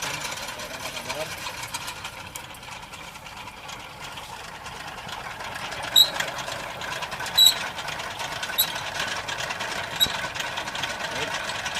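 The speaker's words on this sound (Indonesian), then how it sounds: "Kita akan menaikkan mata bor." An earth drilling machine running as its drill bit is raised, giving a steady mid-level mechanical whir with a few sharp metallic clicks and knocks partway through.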